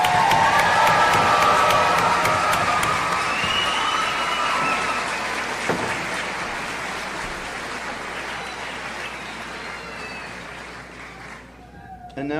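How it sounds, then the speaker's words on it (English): A graduation crowd applauds and cheers for the graduating class, with broad, dense clapping and shouts. It starts loud and full, then slowly fades over about twelve seconds, with a brief surge right at the end. "One more round of applause for our graduates"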